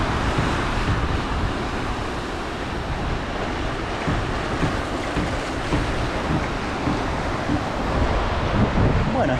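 Surf breaks continuously on the beach at Puerto López, Ecuador, under an overcast sky, with steady wind buffeting the microphone; a loud, dense wash of waves persists throughout without pauses and without any talk.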